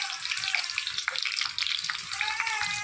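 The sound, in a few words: garlic frying in ghee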